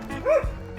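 A dog gives a single short, upset bark, clear and close against outdoor background noise during a walk near a lakeside café.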